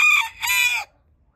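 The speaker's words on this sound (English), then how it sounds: "There's a rooster now." A rooster crows once nearby, a loud, clear two-part cock-a-doodle-doo that cuts off abruptly, with no talking.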